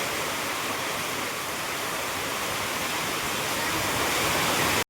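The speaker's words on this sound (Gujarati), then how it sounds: "કલાક 2 કલાકથી વરસાદ એક ધારો આવે છે" Heavy, continuous downpour over the village of Chalala with water pooling in the yard, a dense steady hiss holding evenly throughout before cutting off abruptly at the end.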